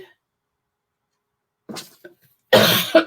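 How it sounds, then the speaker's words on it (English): After a long silence, a soft throat noise precedes one loud, harsh cough close to the microphone. "Of course, the cough's going to hit just as we get started."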